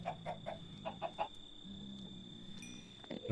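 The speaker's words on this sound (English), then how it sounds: "Let's breed more chickens." Minecraft chickens cluck in a quick run of short calls, close and fairly faint, over a low steady game hum.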